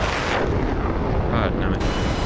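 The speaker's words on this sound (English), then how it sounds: "Bofors are firing now." Bofors anti-aircraft guns from the 1940s fire during a naval carrier-group battle in the DCS flight simulator, a dense, continuous, loud roar of rapid shots blending into rumbling booms.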